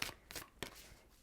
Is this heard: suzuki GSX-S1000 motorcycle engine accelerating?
no